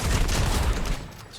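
Gunfire bursts in Fortnite during a competitive FNCS match, a loud dense volley with heavy low boom that holds steady before trailing off, no talk.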